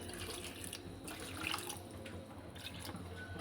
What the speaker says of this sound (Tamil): மட்டன் வேக தேவையான தண்ணியை விட்டுடலாம்